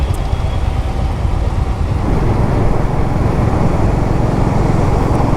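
Steady, loud road traffic near Kashmere Gate inter-state bus stand in Delhi, with a continuous rumble of cars, buses and trucks passing close by and no talk over it.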